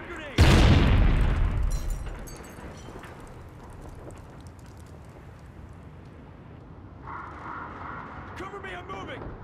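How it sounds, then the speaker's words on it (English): A stun grenade goes off in Call of Duty Ghosts multiplayer: one loud, close boom that rings out and decays over a couple of seconds, followed by quieter gunfire and game noise, with a voice line near the end. "Throwing stun grenade."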